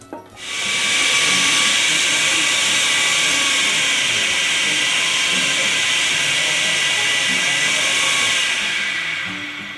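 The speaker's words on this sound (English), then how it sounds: "take this off the heat while it's still got a little bit left to do and pop it in the blender" A blender whirs steadily through a sauce of shallots, garlic and beer, starting abruptly and holding a loud, even motor roar with a bright hissy edge for nearly ten seconds, with no talk.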